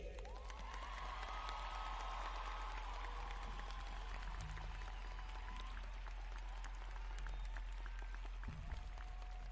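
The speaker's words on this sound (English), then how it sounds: "Please give a round of applause and encouragement of Terrence Blake." Faint, distant applause from the crowd at a high school graduation ceremony, a soft continuous patter over a low electrical hum and some faint tonal sounds.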